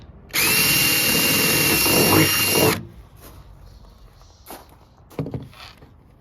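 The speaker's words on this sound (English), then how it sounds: "Now I'm straightening the drill out to the level with the boat." A power drill whirs loudly and steadily for about two seconds drilling into a boat, then stops, followed by faint scraping and a few light knocks nearby.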